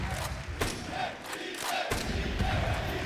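A large arena crowd at a Counter-Strike esports quarterfinal in Cluj-Napoca, MongolZ versus Astralis, roars and chants continuously with a few heavy thumps.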